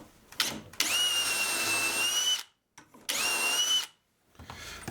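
Power drill boring dowel holes in a wooden cat bed piece, two loud sustained whining bursts with a rising pitch, separated by a short pause, close and alone.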